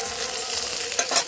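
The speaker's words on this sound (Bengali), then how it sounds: "হালকাভাবে এদিক ওদিক ভালো করে একটু নেড়ে চেড়ে একটু ভেজে নিয়েছি।" Paneer stirred and frying in a pan gives a steady broadband sizzle, with a couple of brief louder scrapes near the end and no talking.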